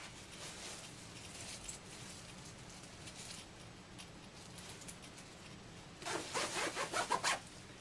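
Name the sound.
zipping up a garment bag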